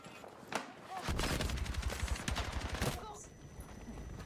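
Rapid bursts of AK rifle fire in Battlefield 6, loud and close, with sharp repeated shots hammering for about two seconds before fading into distant battle noise.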